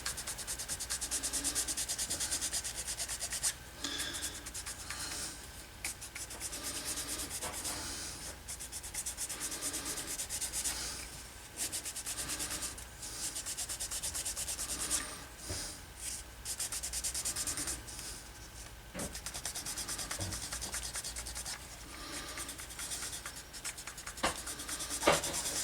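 Vintage tool chest handle being sanded or burnished by hand, a steady continuous rubbing scrape with short pauses and slight shifts in strength, close and fairly quiet, no talking.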